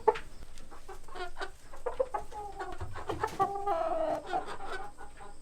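Several hens cluck and murmur close by, with irregular soft clucks and a few drawn-out, rising squawks, no talking.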